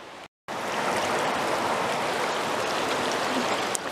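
A cold river near a Whistler campsite rushes steadily nearby, a dense, unbroken wash of flowing water that cuts out briefly at the start and then holds constant.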